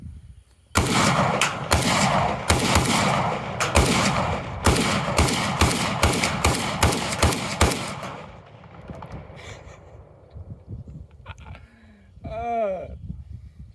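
A Zastava ZPAP 556 AK rifle fires a rapid string of loud, concussive shots at close range, about a dozen evenly spaced blasts with sharp reports, then stops and the echo tails off into quiet.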